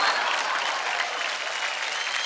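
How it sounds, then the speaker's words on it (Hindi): Audience applauding a dance performance on a televised Indian dance competition stage, a dense, steady wash of clapping from a large crowd that holds at an even, loud level throughout without a break. "जोरदार तालियां हो जाए मोहिना और नीरव के लिए"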